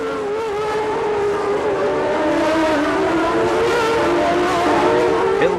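Formula One cars at Monaco surge uphill towards Casino Square, a pack of high-pitched engines screaming together in a loud, continuous roar of acceleration that holds steady throughout.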